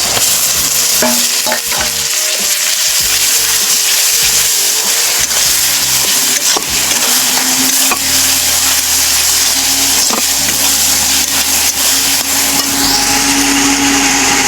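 Garlic fries with browned onions in a pan, a loud continuous sizzle under repeated scraping and stirring, with a steady mechanical hum running alongside.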